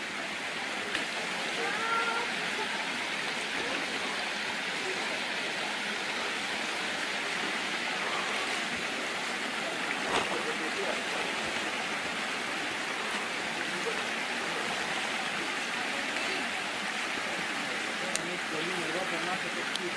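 A rushing, swollen river near the Edessa waterfalls in Greece roars in a constant broadband wash that continues unbroken throughout, with voices faintly mixed in.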